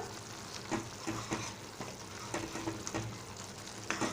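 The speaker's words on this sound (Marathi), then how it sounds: "टॉमॅटोच्या भाजीला छान उकळी आलेली आहे आता असं व्यवस्थित असं घाटायचं आहे" Simmering tomato curry being stirred in a pan, a dense continuous bubbling sizzle with repeated soft scraping strokes of a spoon, close up and moderately quiet, with no voices.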